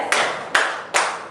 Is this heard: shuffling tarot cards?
no